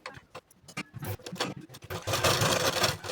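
A sewing machine runs basting stitches on a blouse lining: short stop-start bursts of stitching at first, settling into a steady close whirring run toward the end, with no voices.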